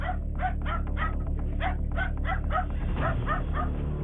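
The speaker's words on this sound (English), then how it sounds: "dogs seemingly barking at an intruder" Repeated harsh dog barks in a steady series, about a dozen calls over a low background rumble, fairly close and clear.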